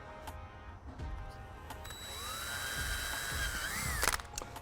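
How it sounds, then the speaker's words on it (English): A drill bores a 1/8-inch pilot hole into a composite C7 Corvette Stingray side wicker part held in a vise, a steady whirring rising in pitch over a few seconds, close and moderately loud, with no talk. "I'll be doing a 1/8 hole pilot hole and then my 10mm rivnut hole."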